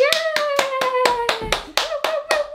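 A person claps hands in a children's clapping game with a toddler, about ten sharp claps in steady rhythm, each overlapped by a sustained sung tone from a voice.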